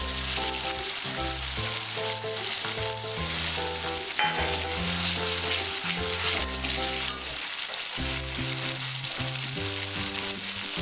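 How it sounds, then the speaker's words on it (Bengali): Spices fry in a pan for a prawn masala curry, a loud, continuous close sizzle with a low, steady tonal drone running under it throughout. "আমি 1 মিনিট কষিয়ে নেব সব মশলাগুলো"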